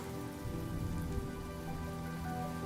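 Rain in the video game Honkai: Star Rail, a steady patter of drops on surfaces under a low tonal music bed, even and unbroken throughout.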